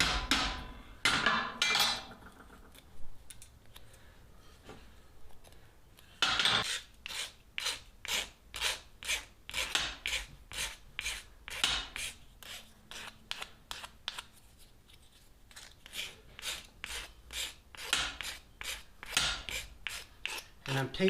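A rasp works the wooden handle of a rounding hammer, tapering its end to fit the head's eye: a close series of sharp, rhythmic scraping strokes, briefly paused early on, then steady and evenly spaced, with no talk.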